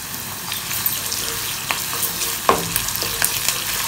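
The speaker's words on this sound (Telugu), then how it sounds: "ఉల్లిపాయలు వేగిన తర్వాత అల్లం వెల్లుల్లి పేస్ట్ వేసుకోవాలి" Onions sizzle and fry in hot oil with ginger garlic paste for a spicy Telangana-style tomato curry, a steady close crackle with occasional stirring scrapes and a few sharper pops, no voices.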